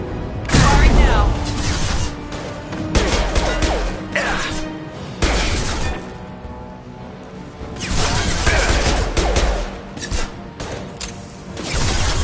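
Weapons fire in Mass Effect 2, loud repeated bursts of gunshots and impacts in several clusters across the stretch, with game voices talking over the combat.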